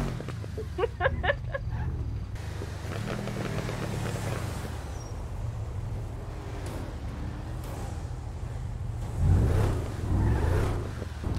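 A car engine revs with the gear left in neutral, a low rumble that swells and falls, with brief louder surges near the end and faint voices at times.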